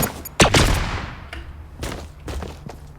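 An OG burst rifle in Fortnite fires a quick volley of gunshots, loud and close, followed by a few fainter shots and thumps fading out.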